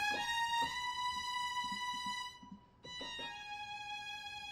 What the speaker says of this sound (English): you have violin, which sounds like this. It's just a one string.